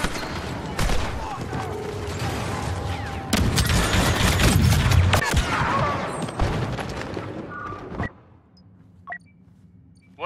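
Star Wars Battlefront 2 multiplayer match on Tatooine, Xbox One: dense bursts of gunfire and a heavy grenade boom fill the first eight seconds, with voices in the mix, then the battle drops to a low hum with a few scattered shots.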